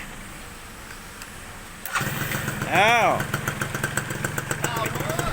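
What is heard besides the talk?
Suzuki Swing 110 motorcycle engine starting and idling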